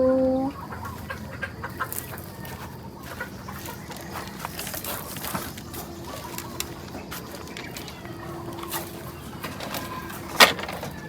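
Chickens cluck and murmur in a busy barn as they are unloaded from a delivery, with scattered bird calls and faint rustling throughout, and one sharper squawk near the end.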